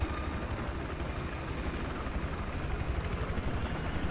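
A helicopter's steady rotor thump and engine roar fill the scene in the video game Battlefield 4, loud and constant throughout, with no voices.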